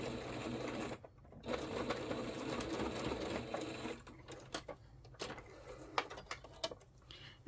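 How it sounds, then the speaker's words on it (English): A sewing machine sews a tacking stitch, running forward and back in a close, continuous mechanical whir that breaks off into short stuttering bursts near the end. "we're just going to do a tacking stitch"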